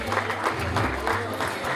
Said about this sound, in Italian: Ci sta un applauso